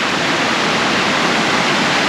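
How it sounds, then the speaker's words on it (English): Rushing creek water on a nature trail at Tank Creek Nature Preserve, a dense, continuous roar holding steady and fairly loud throughout the short stretch. "There are sounds of rushing water coming up here."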